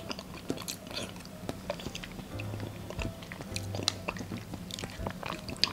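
Close, soft chewing of taro sago dessert, with quiet irregular bites and wet mouth sounds repeating steadily, and no talking.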